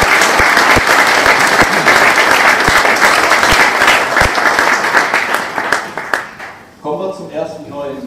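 Sustained audience applause at a Wuppertaler SV concept presentation, a dense roar of clapping with a few sharp individual claps up close, fading out near the end as a voice starts speaking.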